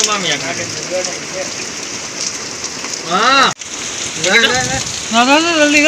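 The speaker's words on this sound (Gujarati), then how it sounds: "પાણી પાણી વરસાદ એવું આવે છે ભાઈ" Heavy rain pours down in a steady, dense hiss that carries through the whole stretch, while voices talk over it in bursts.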